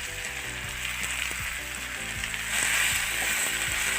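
Chicken and blue taro frying with garam masala, a loud continuous sizzle that grows slightly stronger partway through, with occasional stirring clinks and no talking.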